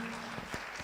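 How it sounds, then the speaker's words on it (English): Brief, fairly faint round of applause from an audience at a youth democracy event, a few scattered claps standing out over a soft, steady background. "A round of applause, ladies and gentlemen."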